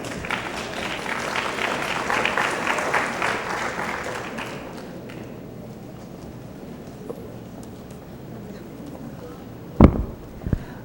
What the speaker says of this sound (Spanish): Les pido que recibamos con un fuerte aplauso